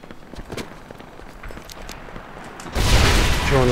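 A sudden, loud explosion from the video game Medal of Honor Airborne, on the flak tower level, erupts near the end after a stretch of quieter in-game footsteps and scattered thuds, then lingers as a sustained roar.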